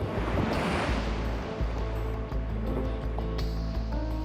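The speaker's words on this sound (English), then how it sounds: "We had 6 to 8 foot surf coming in" Big 6 to 8 foot ocean surf at Bondi Beach, a continuous loud roar of breaking waves with rushing wash and some wind buffeting on the microphone, no talking.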